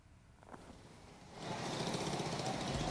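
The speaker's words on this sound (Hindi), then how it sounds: "यहाँ पर ये कंस्ट्रक्शन का काम चल रहा है" Road construction machinery working at a site, a rough mechanical rumble that swells from moderate to loud and steady halfway through, with no talking.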